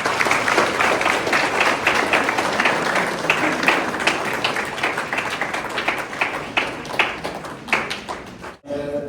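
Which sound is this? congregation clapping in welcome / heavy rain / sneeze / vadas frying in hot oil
congregation clapping in welcome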